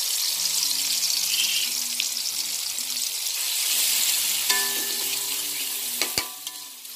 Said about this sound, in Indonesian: Aduk-aduk biar gak gosong.